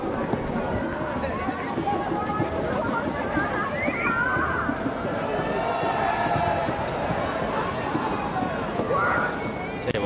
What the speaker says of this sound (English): we've got a fantastic crowd in here today. The place is humming at the moment